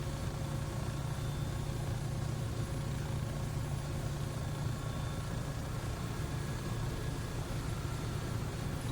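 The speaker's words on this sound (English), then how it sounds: "Love the sound. Engine sounds are amazing." A steady Bell 407 helicopter engine idling in the X-Plane 12 flight simulator, a low, constant hum and faint high whine, running evenly without change.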